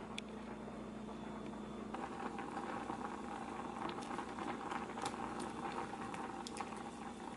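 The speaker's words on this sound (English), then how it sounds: "add that to the bubbling mixture over there" A pot of vegetable mixture for vegan mac and cheese bubbling and simmering steadily, with a continuous soft boiling patter and occasional small pops, close by and without talk.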